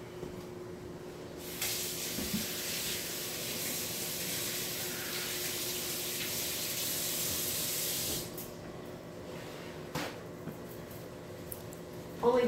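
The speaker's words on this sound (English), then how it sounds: "I have to rinse my hands." Running tap water sprays steadily over rinsing hands at a kitchen sink after handling raw meat, a loud hiss that starts, holds for several seconds, then cuts off, with a brief clatter afterward.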